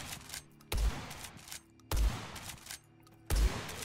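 Gunfire in the video game Blood West: three heavy, booming single shots spaced roughly a second and a quarter apart, each with a short decaying tail over quieter game ambience.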